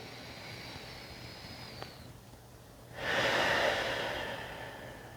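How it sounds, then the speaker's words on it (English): One deep inhalation during restorative yoga, heard as a fairly loud, close breath lasting about two seconds after a quiet pause, with a faint airy hiss before it. "Take another breath in"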